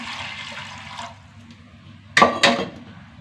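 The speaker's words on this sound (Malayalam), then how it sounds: "കുറച്ച് വെള്ളം ഒഴിച്ച്" Water splashes into a pot of beans in two short, close pours after a quieter stretch of low background hum.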